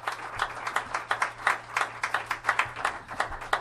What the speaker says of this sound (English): Let's have a round of applause for Joey Duran